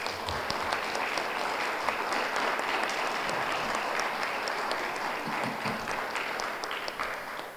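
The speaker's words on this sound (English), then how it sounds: "I would appreciate a round of applause for all that she did to start this ceremony" A ceremony audience applauds steadily, many hands clapping in a dense, sustained wash that holds at even loudness for several seconds before easing slightly at the end.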